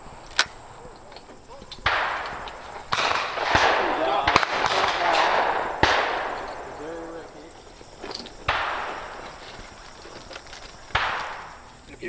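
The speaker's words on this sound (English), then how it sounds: "That's why we're shooting this gun." Loud shotgun blasts from a gun called Big Red at an outdoor sporting clays memorial shoot, several sharp reports spaced a few seconds apart with echoing tails, as people talk between shots.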